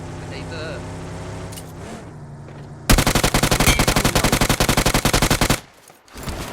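Rapid automatic gunfire in a video game bursts in loud and close as a fast, even stream of shots lasting a few seconds. Quieter game sound comes before it, and it cuts off sharply into near silence.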